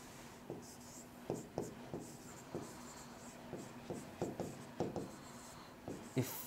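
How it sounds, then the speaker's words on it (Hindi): A marker squeaks and scratches across a board in short strokes, roughly ten quick, soft, close strokes in an uneven rhythm, with no talking. "अलग मार्कर से लिखता हूँ"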